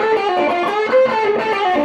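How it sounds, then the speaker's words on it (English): Electric guitar played through an overdrive stacked on distortion, giving a harsh, buzzy, sustained tone with a few ringing notes over about two seconds, loud and close with no talk. "throw on an overdrive on top of the distortion."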